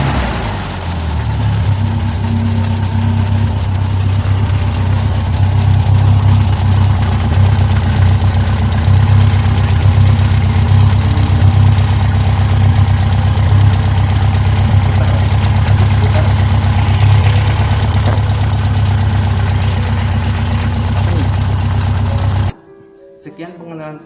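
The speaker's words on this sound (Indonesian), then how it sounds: "Lalu kita nyalakan starter menggunakan pencet tombol" A Toyota Kijang engine in an automotive workshop is started with a push button and settles into a loud, even idle that runs steadily before cutting off abruptly near the end.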